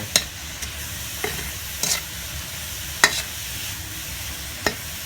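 Ingredients for Thai-Lao stir-fried basil fish are tossed in a pan, giving a low, steady sizzle with a few sharp scrapes and clacks of the utensil spaced through the stretch, no voices.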